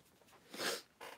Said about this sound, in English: At least I'm doing it off screen, blowing my nose.